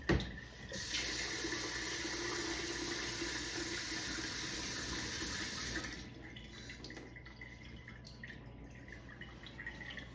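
Kitchen tap water pouring steadily into a pot of rice, a loud even rushing hiss for about six seconds, then cut off, leaving faint drips and handling noises.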